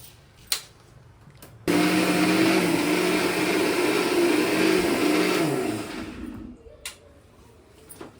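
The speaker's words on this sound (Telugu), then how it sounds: "ఇట్లా మిక్సీ పట్టుకున్నాం." A mixer grinder whirs loudly and steadily for about four seconds while grinding onion with a spoon of cumin seeds, then winds down, with a few clacks before and after and no voices.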